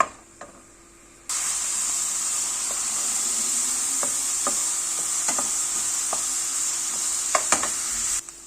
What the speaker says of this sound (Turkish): ayçiçek yağında kavuruyorum şu an